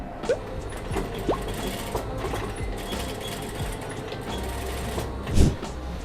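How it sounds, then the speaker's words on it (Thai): A sewing machine stitches a strap onto a fabric bag made from scrap cloth, running in a steady, close mechanical whir with light clicks and a brief knock near the end. "ก็นำสายกระเป๋านะครับวางตรงตำแหน่งที่เรามาไว้เมื่อกี้ที่ 11 เซน จากนั้นก็เริ่มเย็บ"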